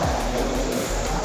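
A GT slot car with yellow headlights and a blue LED nose strip whirs past on a slot racing track, a loud, continuous close buzzing motor whine with a brief swell as it goes by.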